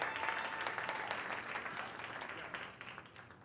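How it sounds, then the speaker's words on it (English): Audience applause at a startup pitch night in a tech village venue, a dense burst of many hands clapping that starts strong and gradually thins out over a few seconds. "Round of applause"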